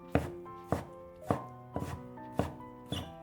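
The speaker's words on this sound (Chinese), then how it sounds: "西葫芦挤好之后，放在案板上给它切碎，这里尽量切小一点。" A knife chops squeezed-out zucchini on a cutting board in six sharp, evenly spaced strokes, each a close, crisp thud with a short ringing tail.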